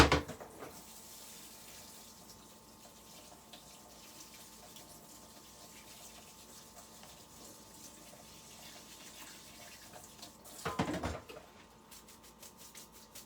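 Steady running water pours over quinoa and grains in a sink, a continuous hiss with a louder splashing burst near the end before it fades.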